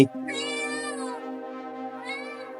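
A cat meows close by in a long, drawn-out wavering cry, followed by a shorter second meow.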